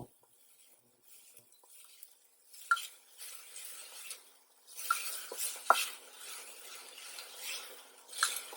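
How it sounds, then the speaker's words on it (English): Onions sautéing in a pan for a peanut sauce with sweet potatoes, a faint soft sizzle with occasional utensil clinks and stirring scrapes, quiet and close. "Just saute your onions lightly and then add tomatoes."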